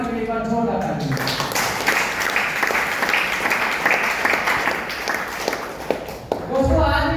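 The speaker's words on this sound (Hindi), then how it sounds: "एक बार जोरदार तालियां" Audience applause at a wellness business meeting, a dense burst of clapping lasting several seconds between stretches of someone speaking at the start and end.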